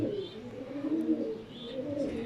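Pigeons in a cleaned loft giving soft, low, repeated coos, close and continuous throughout with faint background noise.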